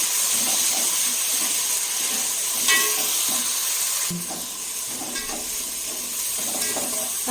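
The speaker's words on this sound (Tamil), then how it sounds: "எல்லாத்தையும் நல்லா கலந்து விட்டுக்கணும்" Tomatoes frying with onion and salt in a pan while being stirred, a continuous sizzle and steamy hiss with occasional scrapes of the spoon, close and fairly loud throughout.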